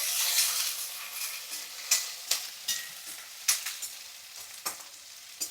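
Green chilies fry in hot oil in a pan, a soft steady sizzle broken by several sharp spattering pops and stirring scrapes, close up and without talk.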